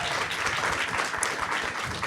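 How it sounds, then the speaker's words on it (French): Audience applauds at a live French-language talk show recording in Montreal, a dense, steady wash of many hands clapping, fairly close and continuous for the whole short stretch. "On l'applaudit!"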